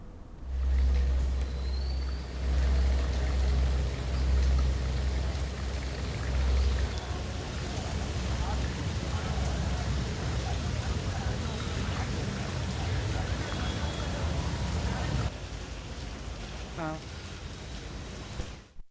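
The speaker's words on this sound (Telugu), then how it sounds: "పేట్ బషీర్బాద్ జీడిమట్లలో కుండపోత వర్షం కురుస్తుంది" Torrential downpour over flooded Hyderabad streets in Pet Basheerabad and Jeedimetla, with a steady, dense roar of heavy rain and splashing water, and low rumbling from passing vehicles throughout.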